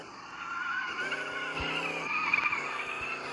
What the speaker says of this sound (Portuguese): Esse carro tá deslizando